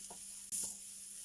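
Carrot thoran with turmeric being stirred in a pan, a steady faint sizzle with a couple of soft scraping touches, no voices.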